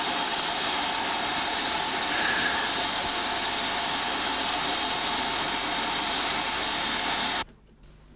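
Steady broadband rumble of a train idling at Grosmont station platform on the North Yorkshire Moors steam railway, continuous and fairly loud for several seconds before cutting abruptly to quiet near the end.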